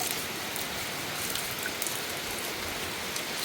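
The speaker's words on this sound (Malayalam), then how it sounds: "ഓ നല്ല മഴയാണ്" Steady, dense rainfall hisses evenly throughout, a continuous wash of drops on surfaces with no voices.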